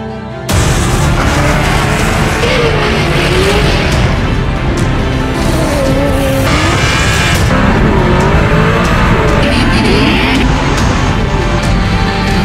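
Drift cars on a wet track at an East European Drift Championship round, engines roaring and revving loudly with rising and falling pitch as they pass, continuous with no talk.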